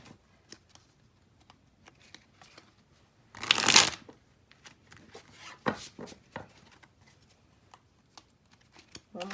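Tarot cards shuffled by hand in one brief burst of riffling, followed by quieter card handling and light taps in an otherwise quiet room.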